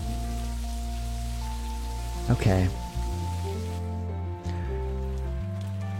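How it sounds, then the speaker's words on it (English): Steady rain falls as a constant hiss under sustained low humming tones, and a voice speaks briefly partway through. "Just try and enjoy the rain."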